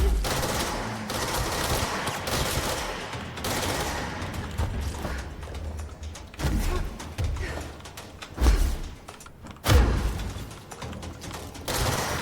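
Bursts of gunfire ring out in the Control video game, rapid volleys mixed with heavier thumps and impacts, loud and uneven across the stretch with no talking.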